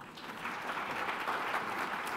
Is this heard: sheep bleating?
no